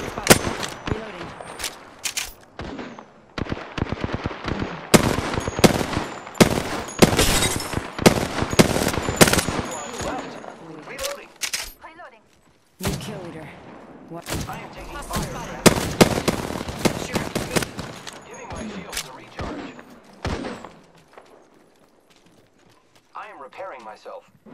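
Loud bursts of gunfire in the battle royale game Apex Legends arrive as rapid clusters of sharp shots, with pauses between volleys, and spoken character callouts heard in between.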